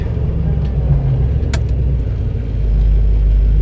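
A Dodge Challenger muscle car drives along, a steady low engine rumble and road noise that swells slightly louder toward the end, with no talking.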